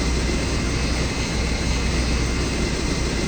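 A Yak-40 jet engine in a flight simulator runs steadily just after start, a loud, constant broadband roar and whine with no breaks or voices.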